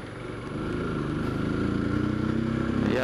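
A motorcycle rides through city traffic in Poços de Caldas, Brazil, its engine droning steadily close by and rising slightly as it carries on over about three seconds.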